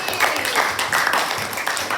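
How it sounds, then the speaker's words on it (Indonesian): Classroom audience clapping together, a short burst of quick, fairly loud hand claps from a group. "Tepuk tangan lagi"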